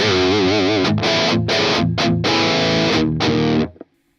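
Heavily distorted electric guitar through a budget metal setup with a thick djent-style tone, chugging chords and sustained notes played in bursts, loud and close, ending with a sudden stop.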